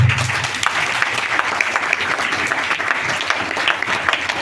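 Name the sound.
audience applause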